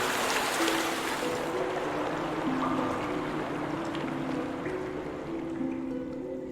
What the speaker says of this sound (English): I hear rushing water.